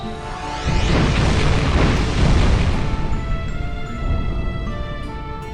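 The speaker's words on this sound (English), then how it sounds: "the jewel detonates" A jewel detonates in The Legend of Heroes IV: A Tear of Vermillion. After a brief quiet lead-in, a loud, deep rumbling boom swells and sustains for several seconds, with ringing tonal music carrying on above it.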